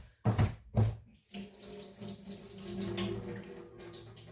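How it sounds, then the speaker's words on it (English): Water runs steadily from a kitchen tap while a fork is rinsed, a couple of brief knocks at the start giving way to a continuous close splashing flow. "I might just give that a wash"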